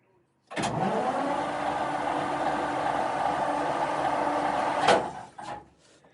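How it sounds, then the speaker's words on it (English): Tank recovery vehicle engine cranking and catching, then running as a loud, steady mid-pitched rumble for several seconds before a sharp thump and a quick die-down at the end. "now let's see if I can remember how to start this thing"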